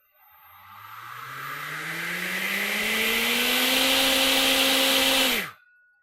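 ClearPath integrated servo motor ramping smoothly up in speed, its whine rising in pitch over several seconds, then stopping abruptly and quickly, loud and close with no talk.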